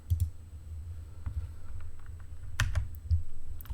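A new folder name is typed on a computer keyboard: a few close, crisp key clicks in small irregular clusters over a quiet background.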